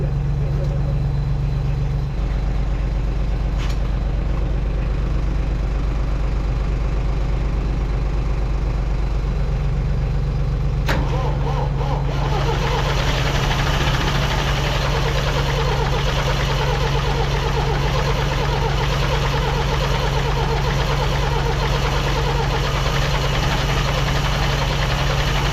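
A tractor engine is turned over with aerosol starting fluid, a steady low mechanical drone that picks up into a rougher, busier running note partway through, loud and close throughout.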